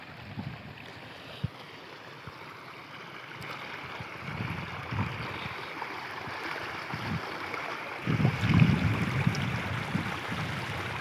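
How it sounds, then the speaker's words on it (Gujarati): Floodwater rushes and churns in a continuous flow along a small stream, with gusts of wind buffeting the microphone and a louder surge near the end. "જુઓ કેટલું પાણી આવે છે"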